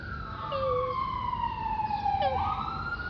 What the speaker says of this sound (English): And there's sirens again.